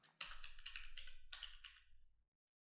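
Rapid keyboard typing, a close burst of clicking keystrokes lasting about two seconds, then a single faint tap after a pause.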